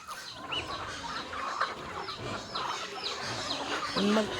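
Chickens and chicks on a Philippine farm cluck and peep while being fed, a busy scatter of short calls and chirps at moderate distance over low background noise.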